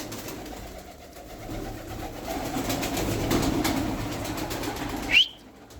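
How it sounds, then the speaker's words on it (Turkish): Pigeons are pulled one after another from a box, with soft fluttering and faint coos against a low background hum, ending in a brief sharp flap. "Elime attıkça elime attıkça güvercin geliyor kutudan."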